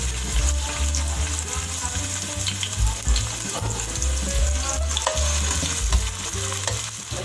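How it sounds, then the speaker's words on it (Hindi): Chopped onions hit hot oil in a pan while cooking achar gosht, giving a loud, steady sizzle throughout with scraping stirs and small crackles layered on top. "जब हमारा तेल थोड़ा सा गर्म हो जाएगा तो हम इसमें 2 कटी हुई प्याज डाल देंगे,"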